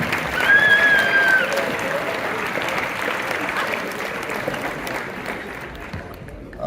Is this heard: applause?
yes